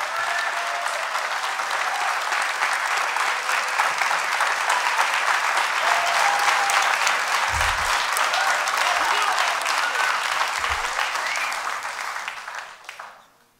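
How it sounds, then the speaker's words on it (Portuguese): A concert audience at an instrumental music show gives a long, dense round of applause for a composer, steady and loud before fading out near the end, with brief voices under it. "Salva de palmas. Palmas que ele merece."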